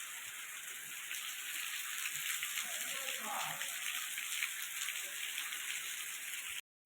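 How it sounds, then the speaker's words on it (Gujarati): Steady morning rain falling outside, a continuous soft hiss of drops on surfaces at even strength throughout, with no other clear sounds. "સવારમાં વરસાદ ચાલુ થઈ ગયો"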